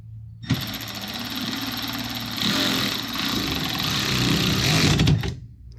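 A power tool cranks a bolt down on a custom cage build for a KRX 1000 Trail Edition, a loud steady mechanical whir running for about five seconds, starting abruptly and cutting off at the end.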